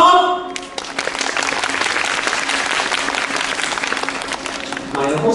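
Audience applause at a live theme park show, a broad sustained wash of clapping from a crowd that runs for several seconds and thins at the end, with a brief tone and voice at the start.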